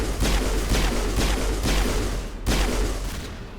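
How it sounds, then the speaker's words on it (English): Pistol fire in Mass Effect on Virmire, a rapid run of loud close shots in a steady rhythm with a brief pause partway through, no talking. "See, I'm like sniping the sniper with my pistol."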